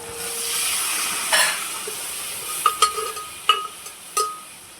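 A spoon stirs a spice mixture of chili powder and coriander powder in a pan for dal dhokli, with a soft sizzle underneath and several sharp metallic scrapes and taps near the end.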